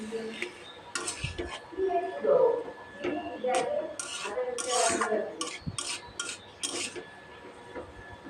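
A beetroot and carrot mixture is stirred in a pan over medium heat, with soft scraping of a spatula against the metal and light clinks of utensils, faint and close, interrupted by a person talking.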